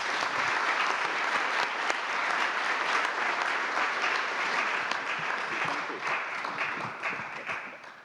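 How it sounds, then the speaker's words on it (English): An audience applauds panelists at the close of a G20 high-level seminar on financial innovation in Fukuoka, a steady, full round of clapping from a hall crowd that holds for several seconds before thinning toward the end. "please join me a big applause for the panelists"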